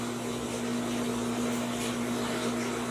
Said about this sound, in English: washer is on. I'm doing some laundry.